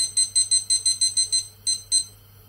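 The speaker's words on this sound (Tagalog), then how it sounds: "Lagyan natin siya ng timer na" A kitchen timer beeps in quick repeated high-pitched bursts, about ten evenly spaced pulses, then two more after a short pause, over a low steady hum.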